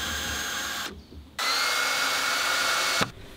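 A power screwdriver drives screws into wood while building a house in a forest, two sustained whirring bursts close up with a short pause between them and no talk.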